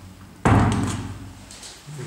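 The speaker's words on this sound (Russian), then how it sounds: "Так, дверь осматриваем." Apartment door in a three-room flat moved during an inspection: after a quiet start, one sudden loud thud as the door bangs shut, fading into a short resonant tail with faint knocks after.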